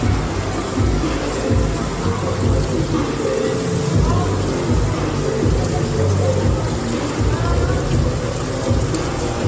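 Heavy rain pours down hard in a flooding storm, a dense continuous hiss and rumble close by, with voices talking over it throughout.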